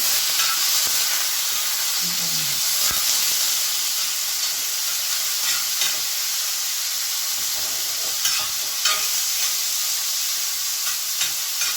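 Liver pepper fries on a tawa over a low flame, with a steady dense sizzle and hiss that continues throughout, marked by occasional faint clicks of stirring.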